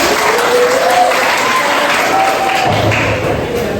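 A classroom audience claps steadily and loudly during a teaching lesson, dense continuous applause with a faint voice briefly audible underneath.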